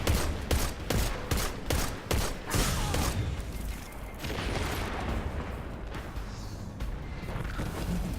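Gunfire in a Destiny 2 Crucible match: a close, loud string of rapid shots in the opening seconds, then a dense rumble of game noise and distant fire.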